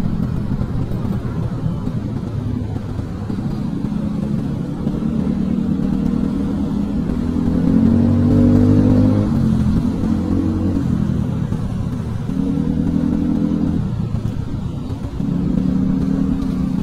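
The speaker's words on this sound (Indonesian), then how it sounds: "Motor." A motorcycle rides on wet asphalt after rain. Its mid-pitched engine hums steadily up close, swelling and easing as the throttle changes, over a constant rushing road noise.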